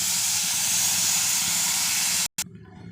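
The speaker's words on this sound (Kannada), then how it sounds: "ಇವಾಗ ಹಾಲು ಹಾಕ್ಕೊಳ್ಳೋಣ." A loud, steady hiss of hot milk hitting fried carrot in a pan for carrot payasa, close by and continuous, cutting off abruptly near the end to a quieter sizzle.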